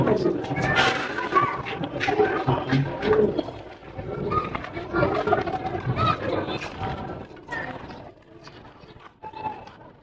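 Teddy 128 pigeons, including a male, coo softly in a steady, overlapping murmur close by, while people talk over them throughout.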